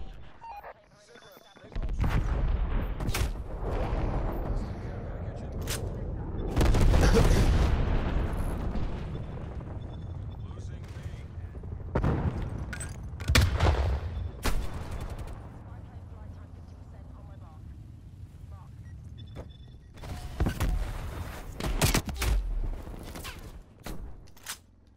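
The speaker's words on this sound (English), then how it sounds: "Cruise missile and artillery." Cruise missile and artillery strikes in Call of Duty: Black Ops Cold War land as heavy booming explosions with rumbling tails, a big blast early followed by scattered sharper hits and a late cluster, with a voice speaking between them.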